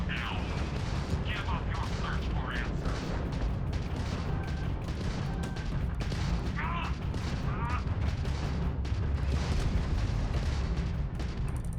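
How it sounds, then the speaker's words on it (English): Spaceship missiles launching in the video game Starfield: a dense, continuous roar of booming, rumbling blasts that fills the whole stretch, with faint in-game voices and chirps layered over the top. "As soon as that locks on, we're going to be firing those missiles"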